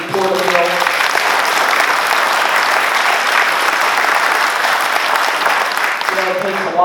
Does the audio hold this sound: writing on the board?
no